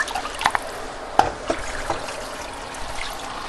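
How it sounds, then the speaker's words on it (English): About a cup of water splashes and drips into a skillet of lasagna mixture in a few short bursts, with scattered droplets over a soft background hiss. "I added about a cup of water."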